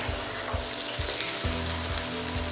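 Vegetable pulao rice being stirred in a cooking pot, with a steady sizzle of frying and periodic scraping strokes of the spoon against the pot, close and moderately loud with no talking.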